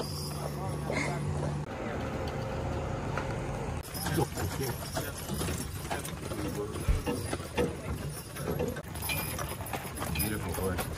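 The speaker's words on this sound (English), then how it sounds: "Beautiful horses." Hooves clip-clopping on hard ground as horses walk by on a farm, mixed with people talking nearby and outdoor background noise.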